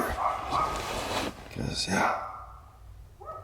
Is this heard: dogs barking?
yes